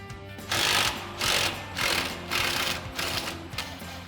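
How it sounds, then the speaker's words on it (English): Impact wrench with an 18 mm socket running sway bar end link nuts off a Jeep Wrangler JK, several loud close buzzing bursts in quick succession, each under a second long. "we're going to go ahead and grab our 18 mil socket on our impact and run those off"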